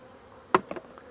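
A honey bee buzzes right up close to a beekeeper near the hive, a short sharp burst of buzzing followed by a couple of fainter passes.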